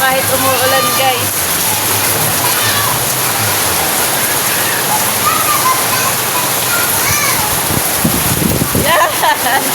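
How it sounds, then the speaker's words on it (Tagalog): Heavy rain pours down with a loud, dense, continuous roar during outdoor cooking, while people talk and exclaim over it. "Ang lakas ng ulan!"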